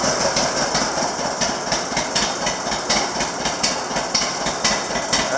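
John Deere 730 tractor engine running steadily close by, a loud, evenly pulsing knock repeating throughout with no voices over it.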